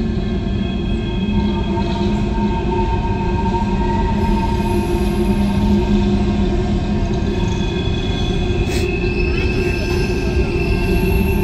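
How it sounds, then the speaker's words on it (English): A long empty coal train rolls slowly around a turn, passing loudly and steadily, wheels droning and squealing with high metallic tones throughout, no break in the noise. "It's a long train."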